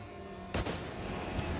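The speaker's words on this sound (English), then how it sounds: "gunshot heard." A gunshot from a competitive PC shooter match, a sharp loud crack cutting through background game ambience, followed about a second later by a softer second shot.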